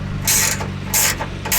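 Ratchet tightening the bottom bolts of a tailgate table on a Jeep Wrangler, heard as three short close-up bursts of clicking that stop and restart, over a steady low hum.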